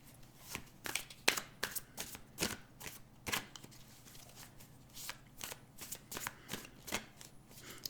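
Tarot cards handled on a table and laid down to cover other cards, a run of close, crisp slaps and shuffling flicks at an irregular rhythm, with no voices.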